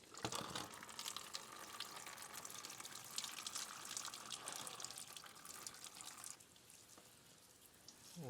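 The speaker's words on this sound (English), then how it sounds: "Then I'm going to go ahead and start draining the coolant." Coolant drains from a Yamaha Grizzly 660 ATV engine under rebuild, a steady close splashing pour that runs for several seconds before thinning to a lighter trickle with scattered drips.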